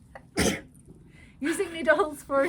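A single loud sneeze bursts out close by, followed a moment later by people talking in a knitting chat.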